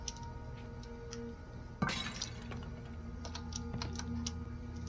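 In Little Nightmares, an object is smashed and glass shatters in one sharp, bright crash, followed by scattered tinkling fragments over a low ambient hum, with no talking.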